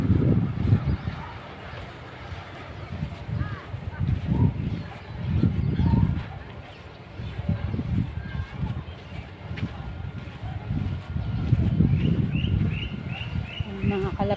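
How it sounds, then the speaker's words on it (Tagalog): Pigeons coo in soft, repeated low phrases outdoors near shops, with people talking nearby throughout. "Mga kalapate."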